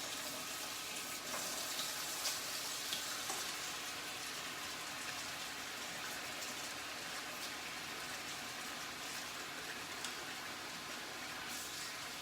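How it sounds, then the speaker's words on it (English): Steady running water from a kitchen tap splashing over hands being washed, continuous and fairly close, with no talking. "Before I do touch anything else, I'm going to wash my hands."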